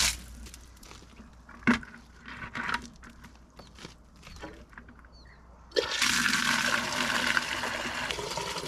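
On a farm, an outdoor water spigot on the line to the house is turned on after a few faint clanks, and water gushes steadily and loudly in the open air.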